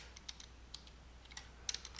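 Close-up typing on a computer keyboard: a few scattered key clicks, then a quicker cluster of taps near the end, all isolated and crisp over a quiet room hiss with no one speaking.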